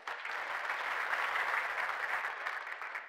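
Applause from a church congregation, a fairly distant, steady wash of many hands clapping that holds evenly throughout with no talking over it.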